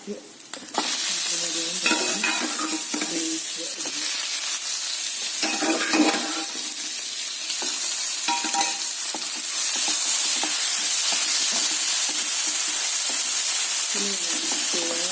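Watermelon rind and dal being sautéed and stirred in a pan, a continuous close sizzle with scraping stirs of a spoon, growing louder and hissier toward the end, with no talking.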